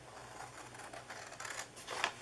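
Scissors snip off the corner of a paper cupcake box template, a faint, soft cut with a crisp slice near the end, close and quiet with no talk.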